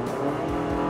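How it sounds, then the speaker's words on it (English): Buzzy four-cylinder engine of a Toyota RAV4 with an 8-speed automatic drones steadily while driving, a dense constant hum heard from inside the cabin without speech. "It's especially buzzy in this RAV4."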